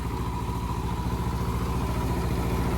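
A Sonalika tractor fitted with a four-foot rotavator runs smoothly at a steady, even throb, close and continuous, with no voices over it.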